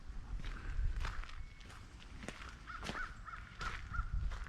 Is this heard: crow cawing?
yes